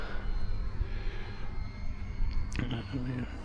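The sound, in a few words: model stunt biplane engine flying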